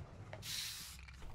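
Spray tag placed on a surface in the game Valorant, a single soft airy hiss lasting about half a second over quiet background hum, close and moderately loud.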